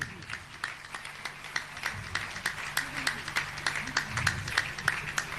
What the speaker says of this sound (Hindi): आप तालियां जोरदार देनी चाहिए